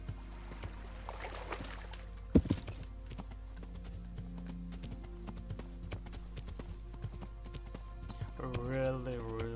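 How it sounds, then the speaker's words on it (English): Rhythmic horse hoofbeats in the video game Kingdom Come: Deliverance clip-clop steadily throughout, with a sharp knock early on and a horse whinny near the end. "Giddy up, my horse."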